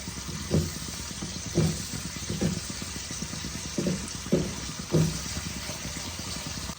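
Spice masala sautéing in oil in a covered pan for a Bengali doi katla fish curry, a steady close sizzle with soft recurring bubbling pops roughly every second, no voices.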